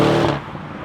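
A 2019 Lamborghini Urus super SUV pulls away, its engine note loud and close in a short, steady burst that eases off after a moment.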